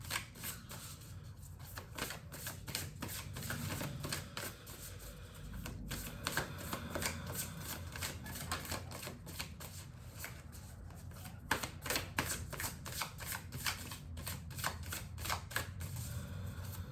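A deck of oracle cards is shuffled by hand, with quiet, repeated riffling and flicking bursts close to the microphone and no talk.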